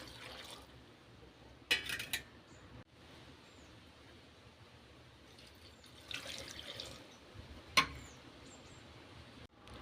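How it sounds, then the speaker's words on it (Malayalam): Water is poured over tender jackfruit seasoned with salt and turmeric in a pan. The pouring splashes come in a few short bursts against a quiet background, with small drips in between. "ഇനി ചക്ക വേകാൻ ആവശ്യമായ വെള്ളം ഒഴിച്ചു കൊടുക്കാം."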